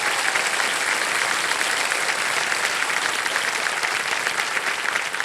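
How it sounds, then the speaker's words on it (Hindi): A game show studio audience gives a guest's mother a warm welcome with sustained, dense applause, close and loud, with no talk over it. "तालियों के साथ हम इनका स्वागत करते हैं।"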